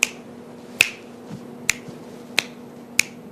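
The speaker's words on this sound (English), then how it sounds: "So let's snap your fingers there for a minute." Five sharp finger snaps ring out, spaced roughly evenly about once every 0.8 seconds, close and clear over a faint steady background hum with no talking.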